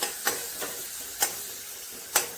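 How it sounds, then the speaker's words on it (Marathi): Finely chopped tomatoes sautéed in a pan make a soft, steady sizzle with four sharp scraping strokes of a spoon at uneven intervals, heard close. "व्यवस्थित असं परतून घ्यायचं बारीक करून घ्यायचं टमाटर"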